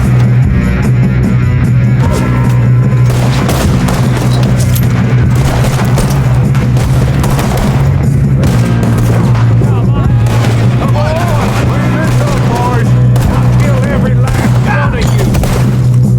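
Gunfire in the video game Red Dead Redemption 2: loud, rapid, overlapping shots and booms crackle over a constant low rumble, with a voice speaking briefly.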